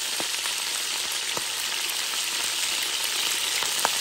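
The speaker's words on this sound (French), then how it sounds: "Alors là, nous allons mettre les oignons." Onions frying steadily in a pan for chicken massalé, a constant bright sizzle with occasional small pops, close and fairly loud with no talk.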